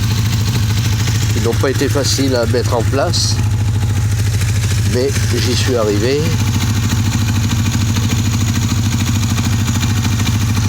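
A 1980 Honda 400 Cruiser motorcycle engine runs steadily throughout, a loud, even low rumble underneath someone talking in French for several seconds.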